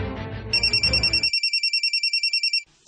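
A telephone rings in a steady electronic pattern of about fifteen short, evenly spaced bursts, loud and close, replacing the room chatter heard at the start and stopping abruptly near the end.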